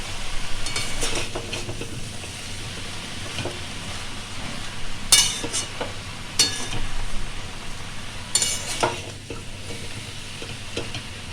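Prawns and spinach sizzle steadily in a frying pan while a utensil stirs them, with a few sharp clinks of the spoon against the pan standing out over the constant frying hiss.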